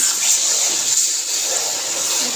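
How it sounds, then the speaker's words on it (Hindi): One cup of water pours into melted sugar in a pan for atta halwa, a steady close hiss and gush with no break and no voices. "हमने यहाँ पे 1 कप पानी का डाल देना है इसके अंदर"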